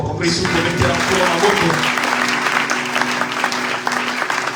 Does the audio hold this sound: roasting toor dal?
no